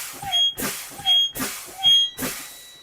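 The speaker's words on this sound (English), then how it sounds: "My low air light and buzzer came on before 55." Low air pressure warning buzzer in a truck cab during an air brake test, sounding as short repeated beeps against rhythmic bursts of air hissing as the brake pedal is pumped, with no voices.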